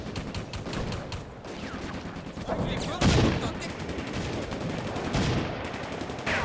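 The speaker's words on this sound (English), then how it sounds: "the artillery started landing at right around 31 seconds" Artillery shells landing amid gunfire in the Combat Mission: Afrika Korps game at Bir Hakeim, a dense battle din with rattling shots and heavier booming impacts, one louder blast near the middle.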